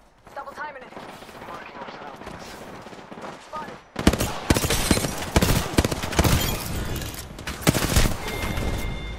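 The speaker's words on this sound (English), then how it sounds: "who's shooting me in the side?" Rapid bursts of video-game gunfire crack out loudly after a quieter stretch, sharp repeated shots and rattling volleys filling the second half, with a voice speaking early on.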